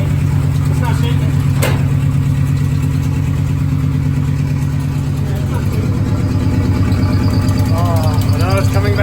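Loud, steady idle of a turbocharged B18 engine in a VW Beetle, deep low rumble and rhythmic pulsing, seemingly running on four cylinders, a faint whistle on top and voices talking over it.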